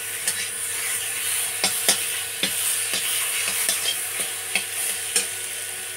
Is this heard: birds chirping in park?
no